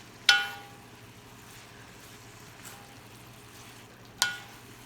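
Mustard sauce is stirred in a pan on the heat, with two bright metallic clinks of the utensil against the pan a few seconds apart over a faint, low simmer.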